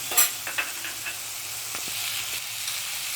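Onion, cashews and chilli sizzle in oil in a pan, a steady frying hiss broken by a few clinking, scraping strokes of a stirring spoon.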